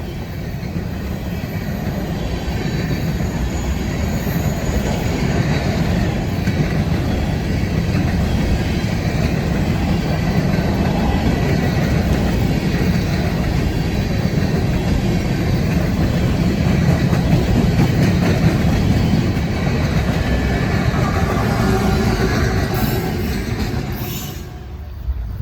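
A train passes fast on the W&A line, its loud, continuous rolling roar and rail rumble holding steady for about twenty-five seconds before easing off near the end.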